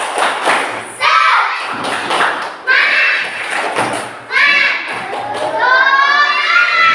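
A classroom of children doing a rhythmic group clapping cheer, loud thumping claps in bursts with kids shouting and cheering along, a teacher's voice talking between them.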